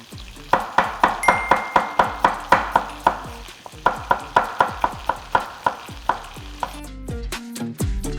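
Shallots being chopped with a knife on a board, a steady run of crisp evenly spaced knocks, close and clear, with a brief pause midway before a quicker flurry of cuts at the end.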